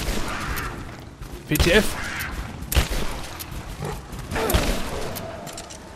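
Shotgun blasts in the video game Rise of the Tomb Raider during a fight with a wildcat, several loud sharp bursts spaced a second or so apart, with a player talking over them.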